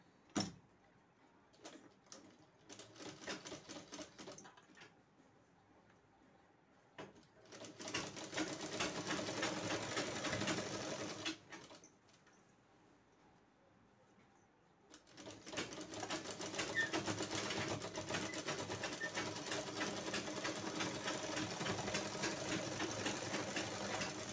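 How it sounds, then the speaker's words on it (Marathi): A sewing machine stitches a waistband onto a blouse in two long continuous runs of rapid, even needle chatter separated by a quiet pause, with a few short clicks and bursts before, recorded up close. "तिला आतल्या साईडने आपण शिलाई मारून घेऊया।"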